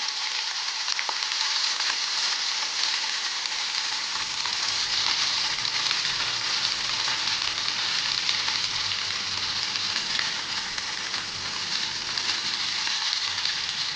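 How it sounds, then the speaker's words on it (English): Garlic sautéing in butter in a pan for a creamy fettuccine Alfredo sauce, a steady, even sizzle holding at the same level throughout with no voices. "I have taken one medium sized garlic and I am going to chop it. Now I am going to mix it into butter"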